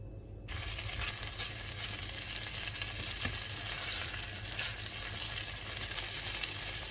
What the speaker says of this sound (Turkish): Didiklediğim tavuk etlerini biraz kızartalım.